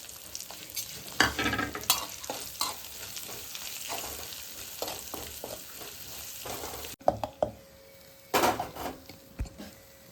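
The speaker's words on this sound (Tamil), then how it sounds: "லாஸ்ட்டாக பெருங்காயத்தூள் எல்லாத்தையும் போட்டு தாளித்து எடுத்துடலாம்" Cashews, curry leaves and asafoetida sizzle in hot oil for a venn pongal tempering, a continuous crackle broken by sharp, close clatters of a spoon stirring the pan, with a short louder burst near the end.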